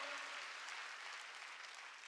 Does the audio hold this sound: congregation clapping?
yes